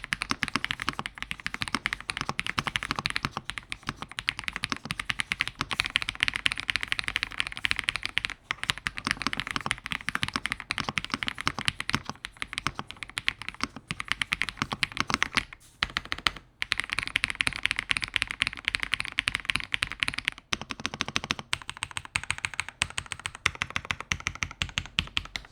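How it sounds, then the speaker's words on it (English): Someone types steadily on a Redragon K708 budget mechanical keyboard, producing rapid crisp key clacks in continuous bursts with a few brief pauses, close and alone. "I think we're ready to give this thing a sound test"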